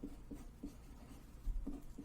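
Marker or chalk writing on a board during a calculus lesson, a quick rhythmic series of short strokes and taps, close but faint, with no voices.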